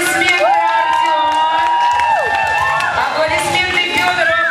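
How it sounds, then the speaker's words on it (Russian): Kids at a summer camp awards ceremony cheer and whoop loudly for a winner, with excited shouting voices over light clapping in the crowd. "Аплодисменты, Артём!"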